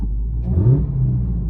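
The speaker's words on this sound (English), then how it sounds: "now, let's rev it." A Dodge Hellcat's engine revs once under a low, steady rumble, the pitch rising and then holding briefly as the revs climb. The sound is close and loud, and nobody speaks.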